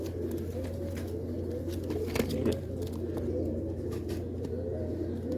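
Four pigeons coo softly in a close, steady stream of low murmuring calls, with no talking.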